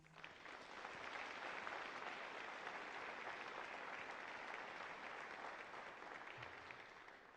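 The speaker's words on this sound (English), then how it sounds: "I think you both deserve a round of applause." Steady applause from a large audience at a physician assistant program graduation ceremony fills the space, holding an even, dense clatter of clapping for several seconds before easing slightly.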